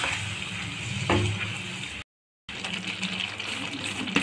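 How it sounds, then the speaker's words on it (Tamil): Tomato paste sautés in hot oil in a pan for a soya chunk (meal maker) gravy, giving a steady, close hiss and sizzle with a short gap partway through. "இப்போ இந்த ஸ்டேஜில் தக்காளி பேஸ்ட் போட்டுக்கோங்க. அந்த பேஸ்டெல்லாம் மட்டும் ஒரு 2 நிமிஷம் வதங்கட்டும்."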